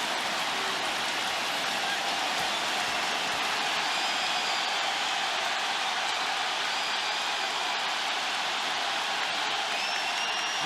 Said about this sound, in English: With the crowd screaming